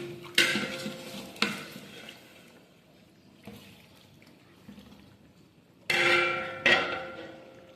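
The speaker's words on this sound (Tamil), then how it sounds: "நல்லா கிண்டுங்க" Chicken biryani masala is stirred in a pot, with several sharp scrapes and clanks of a ladle against the metal in separate bursts and a quiet sizzle between them, close by with no talking.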